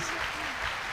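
Brief, fairly quiet applause from a church congregation during a bilingual French and Swahili service, a short wash of clapping with voices mixed in.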